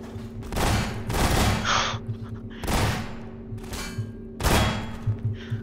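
Gunfire in the video game Garry's Mod, several sharp volleys of shots spaced a second or two apart, fairly close, over a low steady background hum.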